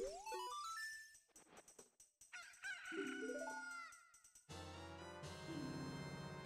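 Digitized chickens from the video game Ocarina of Time squawk, cluck and crow in bursts of rising chirpy tones, loud and close with no talking.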